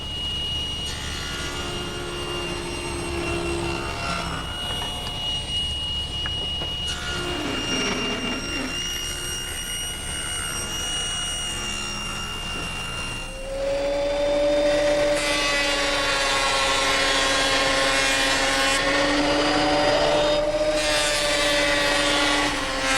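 A table saw rips thin strips from 3/4 inch stock, its motor a loud, steady whine that rises into a harsher, higher-pitched cutting tone partway through and then holds as the blade feeds through the wood.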